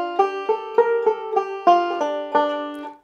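Banjo playing the opening section of a piece, a quick run of bright plucked notes in an uneven, syncopated rhythm, close and clear with no talking over it.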